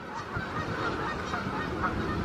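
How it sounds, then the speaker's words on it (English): A crowd of geese honking excitedly nearby, a dense continuous chorus of overlapping nasal calls outdoors. "These geese are going crazy down here. You hear them?"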